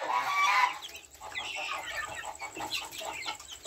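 Free-range chicks chirp in a busy, overlapping chorus of high peeps, steady and fairly close throughout, with a louder burst of calls at the start.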